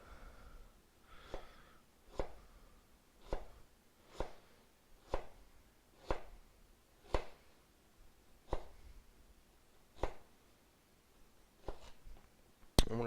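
A knife slices ginger into strips on a cutting board, giving about a dozen soft, evenly spaced chops at a steady pace, quiet and close with no talking.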